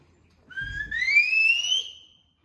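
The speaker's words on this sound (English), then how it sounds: "When you hear my whistle like this one," A tour guide's single clear whistle blast, rising slightly in pitch and held for about a second and a half, with a brief low thump at its start.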